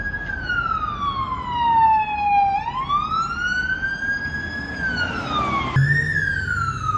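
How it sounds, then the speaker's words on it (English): A loud police siren wails, its pitch sweeping slowly down and up, fairly close, with traffic rumble beneath and no talking. "Can you hear the police sirens"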